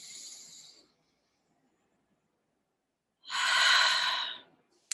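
Deep breathing in a guided embodiment exercise: the tail of one airy breath, a second of quiet, then a full, close, strong breath lasting over a second, each heard alone with no voice.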